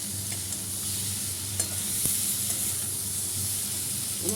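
Curry being sautéed in a pan, a steady close sizzle and hiss with soft scraping stirs and a few light knocks of the utensil throughout, with no talking.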